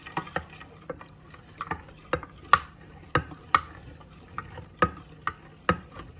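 A whisk or ladle stirs a cornflour mixture in a bowl for Bombay Karachi halwa, giving a steady series of sharp clicks and scrapes roughly every half second, close and clear with no talking.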